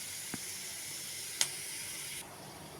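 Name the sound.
pirandai (adamant creeper) being sautéed in a pan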